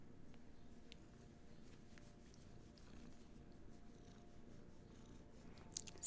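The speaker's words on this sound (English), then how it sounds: "See if you can hear Hattie's purrs." Hattie the cat purrs softly and steadily, a faint low rumble that continues evenly and alone in a quiet room.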